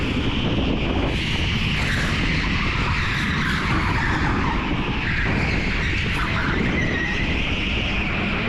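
Go-karts racing around a track in traffic, a dense continuous wash of engine drone, tyre scrub and wind buffeting, loud and unbroken for several seconds without speech.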